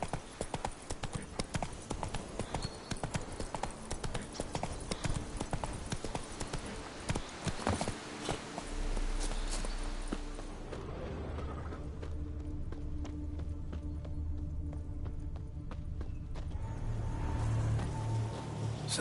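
Roach, the horse in The Witcher 3, gallops with fast rhythmic clip-clop hoofbeats, shifting to a different ground surface partway through as the game's ambient sound continues underneath.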